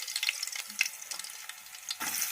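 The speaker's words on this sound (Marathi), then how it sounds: "राई लसूण थोडीशी आता आपण टाकू ह्याच्यात" Mustard seeds and garlic dropped into hot oil, a faint crackling sizzle with small pops and a brief stir, close and quiet with no talking.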